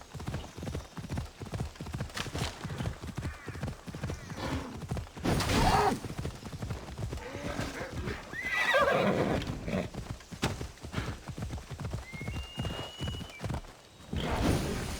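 A horse in Assassin's Creed Odyssey gallops with rapid rhythmic hoofbeats and lets out two whinnies midway, up close and loud over game ambience, with no talking.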